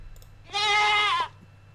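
A goat bleats once in a Minecraft-style modded game, a single loud, sustained, wavering cry lasting under a second, clear and close over a quiet low hum.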